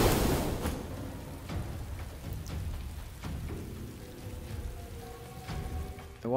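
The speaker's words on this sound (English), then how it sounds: "Why am I not going out? It's raining." Rain falls in Divinity Original Sin 2 as a soft, steady patter, with scattered sharper drop impacts and faint low rumbles beneath, quiet and continuous.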